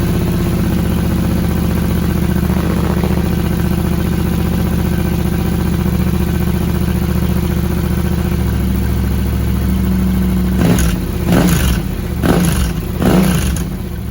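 Yamaha Tenere 700 motorcycle engine idling through a Camel ADV high-mount exhaust with the internal-pipe silencer fitted, a loud, close, steady throb that ends in a handful of sharp throttle blips near the finish.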